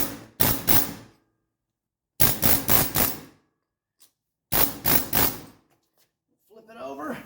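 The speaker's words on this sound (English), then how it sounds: "Here we have our Ingersoll Rand air hammer." Three loud, close bursts of rapid hammering from an Ingersoll Rand pneumatic air hammer on a 1985 wagon's suspension parts, each about a second long, separated by silence, with a brief voice at the end.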